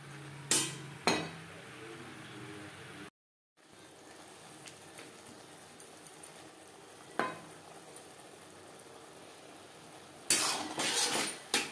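A spoon stirs onion leaves, onion stalks and spices in a pan over a high to medium flame for Bata fish curry, giving quiet scraping and a few sharp metallic clanks against a faint background, with one short gap of silence.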